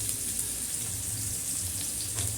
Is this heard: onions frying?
yes